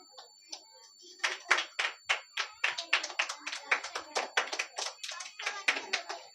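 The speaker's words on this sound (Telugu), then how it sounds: "క్లాప్స్ కొట్టాలి" Children at a Bible school prize distribution clap in short, irregular bursts of many hands, close and lively, each volley swelling and fading in quick succession with little talk.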